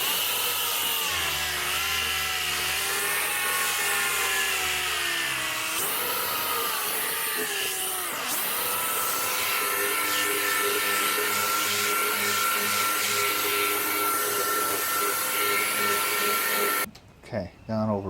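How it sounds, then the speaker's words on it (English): A dual-action sander with 80 grit paper runs steadily over a fiberglass RV fender, a continuous high whirring grind that shifts pitch slightly as pressure changes, with a brief quieter gap near the end. "Run over this gently with 80 grit on the DA"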